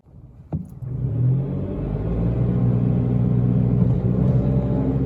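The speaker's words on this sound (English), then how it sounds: "With the CVT, this thing accelerates like there is not a transmission at all, but just a rubber band in between the front axles and the engine" Mitsubishi Mirage with a small engine and CVT pulls away after a brief knock, its engine rising to a steady, droning rumble that holds at one pitch as the car accelerates, close and fairly loud.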